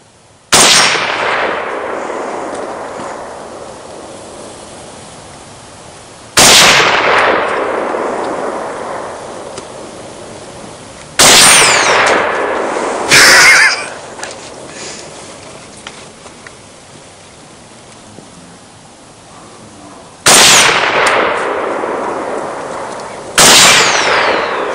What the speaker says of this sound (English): this is 9 rounds of hand-loaded armor-piercing ammo,